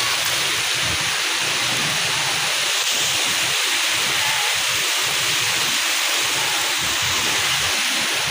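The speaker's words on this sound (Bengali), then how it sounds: "গুড়ি গুড়ি বৃষ্টি পড়তেছে অলরেডি।" Light drizzle falls as a Kalbaishakhi storm builds over a Bangladeshi village, making a dense, steady hiss with gusty wind rumbling underneath that does not let up.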